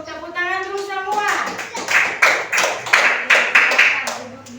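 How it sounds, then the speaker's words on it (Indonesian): Elementary school teachers in a classroom training session break into a burst of rhythmic group applause lasting a few seconds, right after a voice leading the room. "Tepuk tangan dulu semua."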